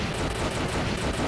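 Dense, continuous rumbling blasts and rapid gunfire fill a bomb attack in the 1944 The Loop Master arcade shooter, loud and unbroken throughout with no voices.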